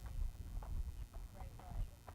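Hoofbeats of a ridden horse clip-clop in a steady walking rhythm, close and fairly clear, with a low rumble underneath and some talk mixed in.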